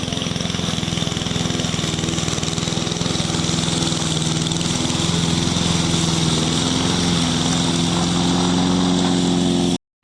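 A Zhangzhou push lawn mower cutting grass, its engine giving a loud, steady, close droning hum throughout with no break.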